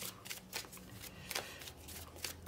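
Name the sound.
tarot cards being shuffled and drawn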